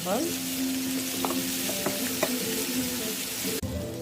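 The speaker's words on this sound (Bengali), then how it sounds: "এখন আমার মশলা লাল করিয়া বাজা হয়ে গেছে" Spices sizzle and fry steadily in hot mustard oil in a pan, a continuous close crackling hiss with a few stirring scrapes, no voices.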